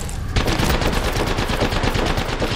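Rapid automatic gunfire rattles in an Apex Legends match, a dense, loud stream of evenly spaced shots running continuously after a brief lead-in.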